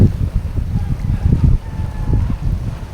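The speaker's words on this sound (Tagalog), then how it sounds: "hindi tayo napapawisan dahil sa lakas ng hangin" Strong monsoon wind on a seaside dike buffets the microphone in heavy, gusting low rumbles that swell and fade repeatedly, loud and close.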